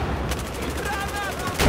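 Rapid automatic gunfire from a machine gun in Battlefield 4 during close-quarters indoor fighting, a dense continuous rattle of shots with players talking over it and a louder burst at the end.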